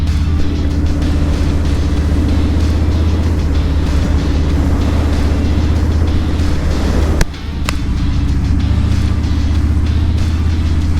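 Harley-Davidson Street Bob cruiser motorcycle riding steadily on the road, a deep, even engine rumble with wind noise held close and continuous, with a brief dip partway through.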